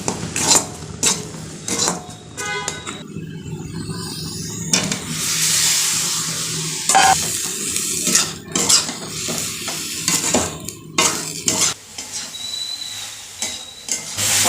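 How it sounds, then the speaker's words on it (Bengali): Spices and soy chunks being sautéed in a little oil in a home kitchen, a soft sizzle broken up by repeated scrapes and clanks of a spatula against the pan, with intermittent gaps and small knocks. "আমার মশলা প্রায় কষানো হয়ে গেছে"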